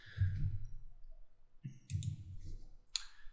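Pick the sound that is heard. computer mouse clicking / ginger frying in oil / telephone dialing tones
computer mouse clicking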